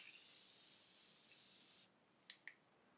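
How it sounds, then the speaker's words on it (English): A close, continuous hiss of makeup setting spray lasting about two seconds, followed by a couple of quick, soft clicks in near silence. "So I'm going to go in with my Morphe setting spray"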